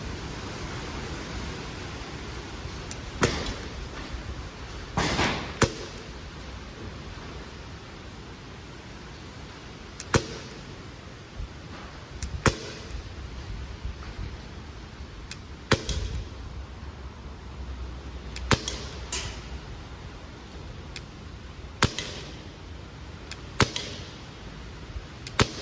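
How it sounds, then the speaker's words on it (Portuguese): A PT92 CO2-powered 4.5mm airgun pistol fires a series of sharp, short cracks at irregular intervals, each a crisp snap over a quiet hissing background. "aqui eu vou dar um tiro com ela."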